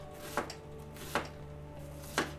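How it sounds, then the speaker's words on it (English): A knife chops half a red onion into a fine dice on a board, three sharp separate strikes spaced about a second apart over a low steady hum. "I'm just going to use half a red onion. Finely diced."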